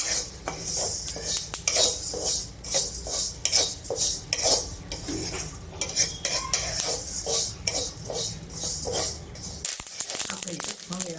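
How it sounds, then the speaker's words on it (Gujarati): Flaxseeds roast in a pan over a low flame for mukhvas, giving rhythmic scraping and stirring with light crackling and clinks of the spatula against metal, close and steady throughout. "આ રીતે તતડવા દેવાની એટલે ફૂલી જાય સરસ મજાની."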